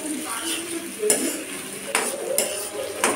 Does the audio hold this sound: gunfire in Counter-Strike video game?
no